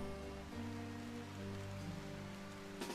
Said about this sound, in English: Thankfully, it's foggy rain, so I don't have to deal with the blaze anymore.